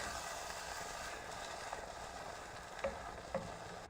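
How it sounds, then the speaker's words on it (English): A spoon stirs a pot of doro wat, Ethiopian chicken stew, scraping browned bits from the bottom under a steady low sizzle, with a couple of brief louder scrapes near the end. "Stir it well. It's kind of scrape off all the brown bits."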